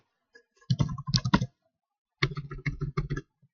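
Two quick bursts of clicking keystrokes on a computer keyboard, close and clear, separated by a short pause.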